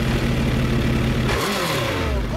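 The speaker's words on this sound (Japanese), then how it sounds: "ごめん、エンジンを聞かせてもらえる？" A 2016 Suzuki GSX1300R Hayabusa motorcycle engine idles steadily nearby, then gives a short rev that rises and falls before settling back to idle.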